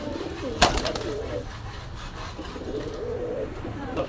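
Pigeons coo at a cheap pigeon fair in Gollamari, Khulna, soft repeated coos under a busy background with a sharp wooden knock or scrape early on.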